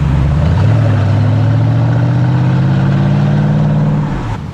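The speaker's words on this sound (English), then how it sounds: "Not many things make a man happier than the sound of a V8 engine." Porsche Cayenne S V8 engine revving up close, a loud deep growl that rises and holds a steady high rev for several seconds before dropping off.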